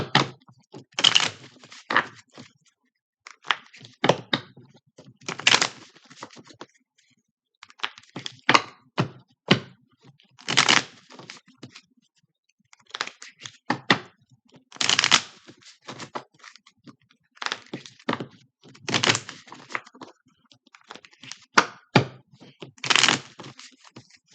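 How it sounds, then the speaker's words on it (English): Oracle cards are shuffled repeatedly up close, crisp riffling bursts and soft slaps coming in irregular bunches with brief pauses between. "Let's do some shuffling."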